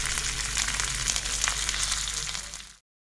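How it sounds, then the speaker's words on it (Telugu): Tempering of chana dal, urad dal, mustard seeds, cumin, dried red chillies and curry leaves in hot oil makes a bright, steady close sizzle with crackles, then cuts off abruptly to silence. "సో ఈ పచ్చడిని ఇప్పుడు తాలింపు వేసుకుందాం"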